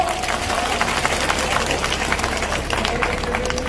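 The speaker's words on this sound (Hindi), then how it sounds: "अगर अच्छा लगा तो ताली बजाओ" A large audience at a public speech event applauds, dense steady clapping filling the whole span with crowd murmur beneath.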